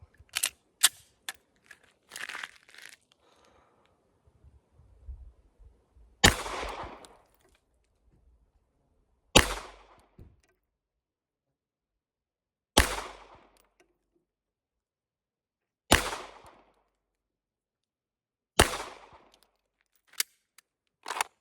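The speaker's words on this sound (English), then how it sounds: "firing 5 rounds as accurately as possible" Five sharp pistol shots ring out at a live-fire range, evenly spaced about three seconds apart, each a loud crack with a short tail, after a few quieter clicks and handling noises at the start.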